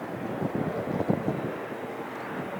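Airbus A400M Atlas military transport at the Royal International Air Tattoo 2025, roaring through a maximum-power takeoff display as a steady, fairly distant broadband drone with slight wind buffeting.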